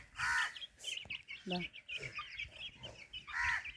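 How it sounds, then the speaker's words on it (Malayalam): Chickens cluck and squawk nearby in short bursts, with a few sharp calls mixed among softer clucking. "കോഴി റിഷാൻ്റെ അതിൻ്റെ മുകളിൽ കയറിയിട്ട് നോക്കിയേ"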